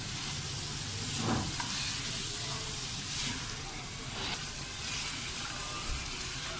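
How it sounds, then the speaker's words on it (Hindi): Tomatoes frying with chicken and spices in a pan for chicken chana dal, giving a steady soft sizzle and hiss with occasional stirring scrapes, fairly faint throughout. "अब इसको टमाटर नरम होने तक भून लेंगे"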